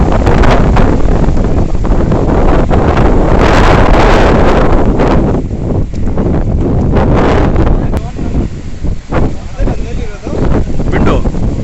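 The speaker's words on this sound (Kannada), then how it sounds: "ಇಲ್ಲೂ ಸಕ್ಕ ಜೋರು ಗಾಳಿ, ಸ್ವಲ್ಪ ತುಂತುರು ಮಳೆ ಹನಿ ಕೂಡ ಬರ್ತಾಯಿತ್ತು" Strong wind with light drizzle at Mari Kanive dam roars continuously and loudly across an open microphone, buffeting and rumbling throughout with gusty surges.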